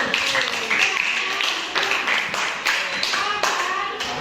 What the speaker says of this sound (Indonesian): Tepuk tangan untuk Nurul.